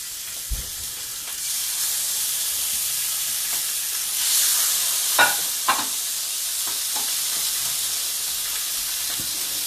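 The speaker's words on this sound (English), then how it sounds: "put it skin side down in that pan. You guys hear that sound? That's the sound you want to hear." Turmeric and lime chicken, marinated with garlic, salt and pepper, laid skin side down in a hot pan, giving off a loud, steady hissing sizzle with a few sharp pops and crackles near the pan.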